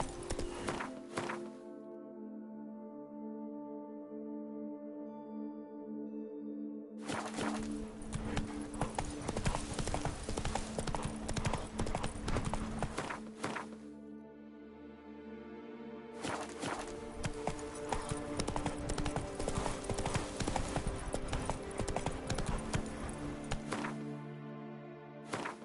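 Geralt's horse Roach from The Witcher 3 clip-clopping steadily, hoofbeats running continuously over loud game music across the whole stretch.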